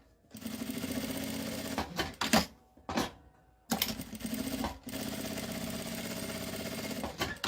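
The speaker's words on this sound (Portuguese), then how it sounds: "Vou passar uma costurinha aqui em volta, ó, aqui na lateral, embaixo e na outra lateral, para segurar esse bolsinho aqui no outro bolso" A sewing machine stitching a small fabric pocket onto a wallet, running in steady, close mechanical bursts with brief pauses and clunks between stitching runs.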